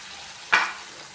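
A spoon makes a single short scraping stir through a Bombay chutney base with salt, turmeric and asafoetida in a pan, heard over a low, steady background sizzle.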